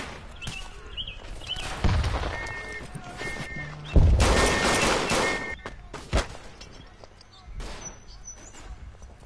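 Scattered gunfire and thuds from the WWI shooter Verdun, a few sharp bursts and impacts at mixed distances, with a voice talking over much of it.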